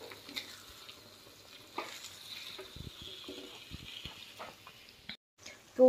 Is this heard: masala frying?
yes